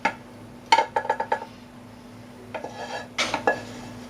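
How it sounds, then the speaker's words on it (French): Pots and utensils clink as mushrooms are added to a saucepan of pasta, a quick cluster of light metallic taps, a pause, then more scraping and clattering against a pan, no voices. "on va prendre nos champignons et les mettre dans la casserole avec les pâtes"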